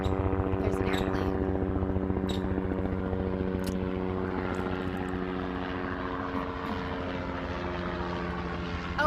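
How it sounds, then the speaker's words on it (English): Aircraft flying overhead with a steady droning engine hum throughout, sounding more like a propeller airplane than a helicopter, moderately distant, with faint clicks and birdlike chirps above it and no talking. "Oh, it's a helicopter."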